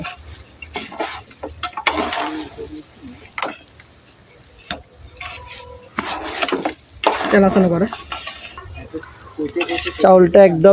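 Rice being stirred into fried onions in a pot for chicken kacchi biryani, with intermittent scraping and clanking of a utensil over a soft sizzle, while a voice talks and music rises toward the end.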